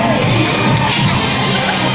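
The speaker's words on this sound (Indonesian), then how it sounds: "Kita berikan tepuk tangan Bapak Ibu untuk peserta nomor 8" A crowd cheers for a contestant at a Kartini costume competition at PT Surveyor Indonesia, a loud, continuous roar of shouting and whooping voices that fills the short clip.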